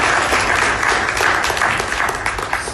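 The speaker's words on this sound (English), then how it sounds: "I would like all of you to give a great round of applause for Indian Air Forces." An audience claps and cheers in a sustained, dense burst of applause at a public address honouring the Indian Air Force, loud and steady throughout with no speech over it.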